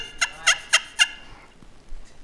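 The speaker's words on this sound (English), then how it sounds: "the gobbler, the turkey, the tom, he'll call, and he'll get the hens to come to him" A wild turkey tom gobbles once, a rapid rattling burst of four sharp pulses close by, followed by a quiet pause.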